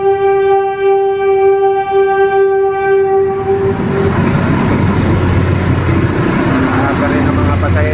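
Early-morning passenger train passing close by, a long sustained horn blast that cuts off as the heavy rumble and rattle of the cars rolls past, with people talking over it.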